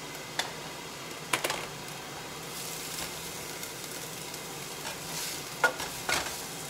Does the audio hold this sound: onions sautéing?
yes